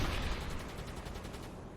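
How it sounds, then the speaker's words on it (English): Sustained machine gun strafing fire in the submarine game UBOAT, a dense rapid rattle of shots running steadily throughout at moderate loudness with no talk. "Skipper's going to strafe that one with the machine gun"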